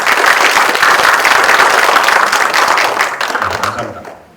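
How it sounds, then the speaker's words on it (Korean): Lecture-hall audience at a museum college talk applauds loudly, dense clapping from many people that holds steady, then fades out near the end. "세계유산 도시 하만을 위해서 박수 한번 치고 오세요."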